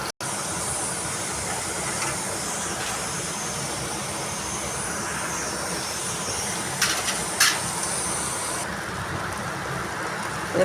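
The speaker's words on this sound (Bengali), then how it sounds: "পেঁয়াজ দিয়ে 2 মিনিট নাড়বো।" Onions fry with cumin and curry leaves in a pan, giving a steady, close hiss of sizzling oil throughout, with a few brief scrapes of stirring near the end.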